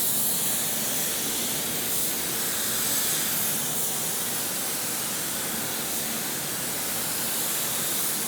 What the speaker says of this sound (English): Let's put a little bit of distance between our panel and the spray gun